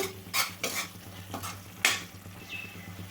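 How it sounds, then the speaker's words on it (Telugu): Masala with coriander powder fries in a pan for bitter gourd pulusu, a soft sizzle broken by several sharp spatula scrapes and stirs against the metal, close and fairly quiet, with no voices. "ఇప్పుడు మసాలా ఒక్క నిమిషం పాటు అయితే వేగాలండి"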